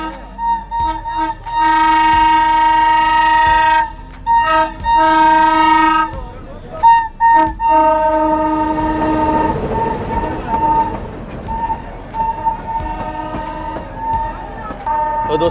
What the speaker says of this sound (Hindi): हमारी ट्रेन भी आ चुकी है